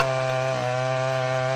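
Chainsaw cutting through wood, a steady loud droning buzz with strong harmonic whine that holds continuously throughout, alone with no voices.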